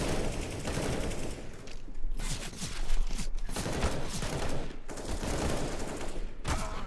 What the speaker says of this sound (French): Sinon je fais Galil à rafale, genre je tire 3 balles à la fois.